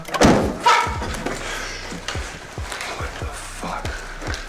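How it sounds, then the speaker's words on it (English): A photo knocked off a wall in a horror film lands as a dull thud early on, followed by a string of softer, regular knocking thumps under a faint voice. "suddenly John Wayne Gacy knocks a photo off the wall."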